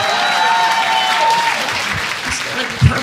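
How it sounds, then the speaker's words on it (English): Audience applause at a stand-up comedy show, a broad steady wash of clapping near the start that thins and fades toward the end, with a faint tone early on and a brief thump near the close. "Round of applause"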